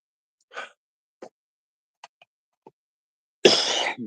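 Several short, separate coughs spaced out over a few seconds, ending in one louder, longer harsh cough.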